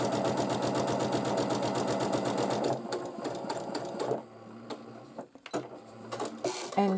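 Sewing machine with an automatic thread cutter stitching fabric scraps for paper piecing: a fast, steady mechanical chatter for close to three seconds, then slower clicks and whirs as it stops, with short clunks from the thread cutter and handling.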